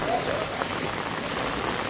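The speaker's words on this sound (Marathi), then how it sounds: "खूप चांगला जोराचा पाऊस चालू झालेला आहे" Heavy rain begins pouring down, a dense, steady hiss of drops drumming on surfaces that holds loud and even throughout with no pauses.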